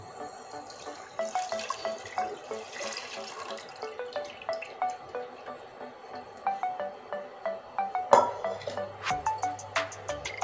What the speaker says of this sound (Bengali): এখানে আছে 1 কিলো দুধ, মোষের দুধ, এটা এখন দিয়ে দিচ্ছি।